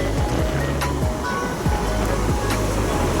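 Sea waves at a beach, a steady loud wash of surf rushing and churning up close, continuous across the moment with low rumbling underneath.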